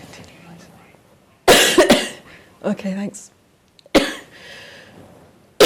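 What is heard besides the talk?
man coughing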